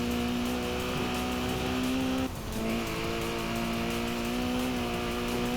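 A 1999 Ford Racing Puma in a racing video game, its engine droning steadily at high revs with a brief dip as it shifts gear midway, then climbing again, loud and continuous throughout.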